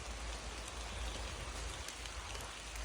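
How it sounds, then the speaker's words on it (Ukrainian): Steady light rain patters evenly on leaves and ground in a beech forest, a soft continuous hiss with no voices. "Дивіться, як цікаво. Іде дощ."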